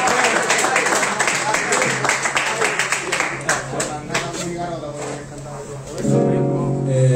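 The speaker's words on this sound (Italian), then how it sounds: "fatemi un applauso" Live concert audience applauding in a small venue, brisk continuous clapping close by with crowd voices mixed in, then a sustained tone enters near the end.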